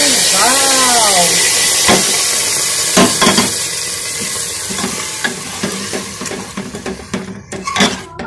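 Hot fried tempering is poured into Punjabi-style sarson ka saag and sets off a loud, steady sizzle and hiss. Stirring clinks and scrapes follow, and a voice speaks briefly at the start.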